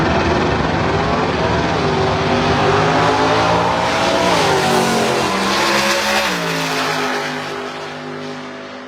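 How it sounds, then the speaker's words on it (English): A Ford Mustang drag races down the quarter mile at a drag racing event, its engine roaring loud and near, pitch climbing through gear changes before fading slightly as it pulls away. "Head start going to the Ford Mustang. Getting down to the quarter mile."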